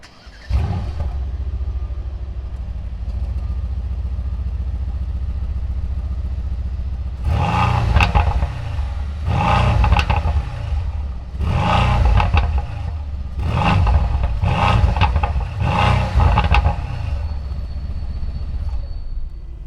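A 2020 Mercedes-AMG C63 S sedan engine idles in a low rumble, then is revved hard five or six times in quick bursts, each roar rising and falling back, close and loud.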